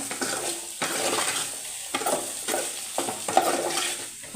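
Food fries in a pan, a soft steady sizzle broken by several scraping stirs of a utensil against the metal, fairly quiet and close, with no talking.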